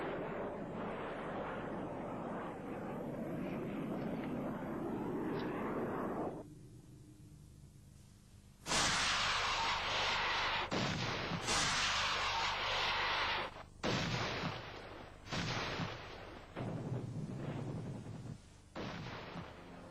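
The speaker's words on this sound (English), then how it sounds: "bombers with napalm and cluster bombs were destroying Vukovar day and night" Artillery fire from the 1991 bombardment of Vukovar, Croatia: a dense roaring rumble gives way to a series of sharp, loud blasts and booms at irregular intervals, some with lingering tails.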